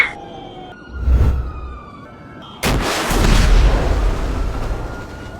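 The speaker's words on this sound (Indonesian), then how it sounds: "sekarang Upin akan menembak zombie itu dengan senjata roket sekarang juga" In a zombie video game, a rocket launcher fires with a heavy booming blast and sustained roaring rumble, following an earlier lighter thump and electronic tones.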